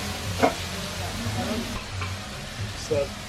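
Red onions and shallots frying in a pan with garlic, a steady low sizzle with a few brief stirring scrapes and clinks, close and moderately loud with no talk.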